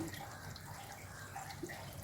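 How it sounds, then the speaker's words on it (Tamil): A little water is poured into a mixer jar while catfish gravy is being made, a faint, soft splashing hiss lasting about two seconds. "மிக்சி கூட கொஞ்சம் தண்ணி ஊற்றி"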